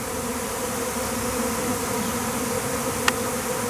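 A swarm of some 20,000 to 30,000 honey bees settling into a hive outdoors gives off a steady, dense buzzing drone that fills the whole stretch, with one brief sharp tick near the end.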